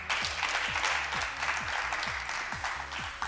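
Loud, steady clapping from a crowd, sustained throughout with rhythmic low thumps of music pulsing underneath.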